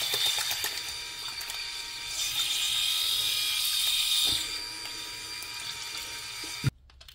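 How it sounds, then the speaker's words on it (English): An electric bald head shaver's blade is swished around in a sink of water, producing steady close hissing and splashing with a faint mechanical whir, ending in a sharp knock and sudden drop to quiet. "I clean the blade. Make sure you have enough water."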